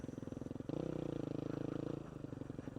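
A supermoto motorcycle engine running while riding, a steady pulsing drone that climbs in pitch as the throttle opens, holds, then eases back off, heard close with no speech.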